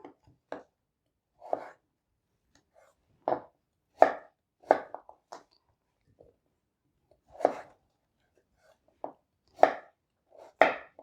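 A knife chops potatoes into cubes on a cutting board in separate, irregular thuds, each a short knock, close up with quiet pauses between cuts.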